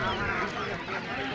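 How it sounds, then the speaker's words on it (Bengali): Ducks honk and quack in a dense, continuous mass at a village poultry market in Kotiadi, Kishoreganj, with market chatter blended underneath. "একটা হাঁস হাতে নিবেন একটু দেখে"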